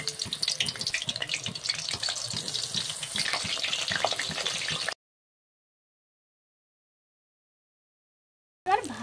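Battered bok flowers sizzle in hot oil, a steady crackling fry that runs for about five seconds before cutting to silence, with a brief return of sizzle at the very end.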